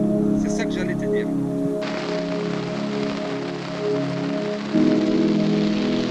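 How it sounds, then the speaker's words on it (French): Steady rain patters on a tent in the early morning, a continuous dense hiss close around, with a brief voice near the start. "Donc il pleut"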